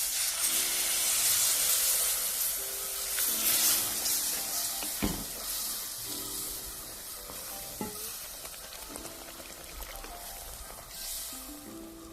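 Hot water hits frying masala for a Kerala-style prawn roast in a pan, setting off a loud burst of sizzling steam that settles into a steady hiss, with spoon stirring and scraping repeating throughout.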